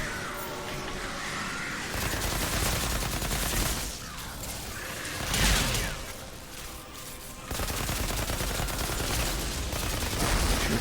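Sustained gunfire from the video game Outriders, dense rapid bursts and crashing impacts filling the stretch with only brief dips in intensity.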